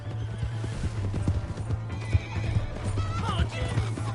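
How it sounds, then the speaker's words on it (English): Horse in a video game, hooves clip-clopping in a steady rhythm with loud neighing and whinnying on top, close and prominent, with background game noise and voices. "Hey, that's my horse!"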